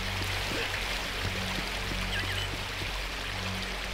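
A waterfall in the Unreal Gold video game gives off a constant, dense rushing wash of falling water, steady and full throughout with a low hum beneath and no voices.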